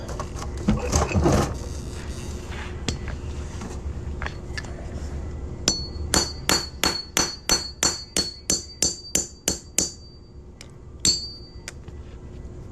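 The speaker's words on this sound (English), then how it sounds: "Put that punch in there, hammer it through." A dozen sharp metallic hammer strikes drive a punch through the center of a quarter coin for a ring, ringing out in a steady rhythm, each hit clanging brightly, preceded by some handling clatter.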